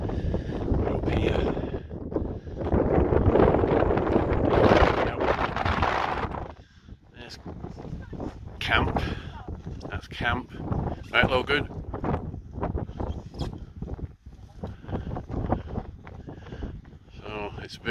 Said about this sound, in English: It is really windy.